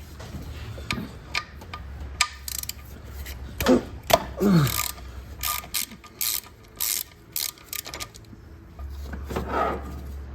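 Ratcheting wrench clicks in irregular bursts while loosening a plug on the 2.4 L engine of a Chevrolet Equinox, close and fairly loud, with metallic tool clinks and brief scraping between the ratchet runs.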